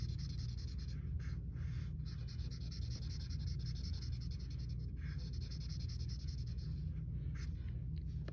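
Marker or crayon colouring in pictures on paper, a close, quiet, continuous scratchy rubbing broken by brief pauses as the strokes change, with no talking.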